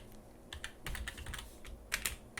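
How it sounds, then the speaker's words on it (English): Computer keyboard being typed on to enter an SQL command, a quick irregular run of soft clicking keystrokes, close and alone. "I'm going to start typing out that command."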